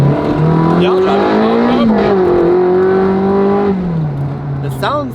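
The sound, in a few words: car engine revving while driving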